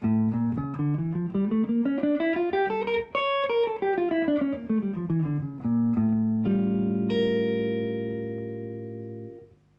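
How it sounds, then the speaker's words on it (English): A clean electric guitar plays a Phrygian dominant scale up and back down note by note, then rings out a sustained chord that fades. "Now, Phrygian dominant sounds like this."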